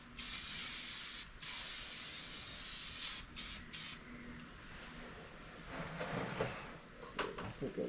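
Primer sprays onto car wheels in long steady hissing bursts broken by a few short gaps, then shorter spurts over a quieter background hum.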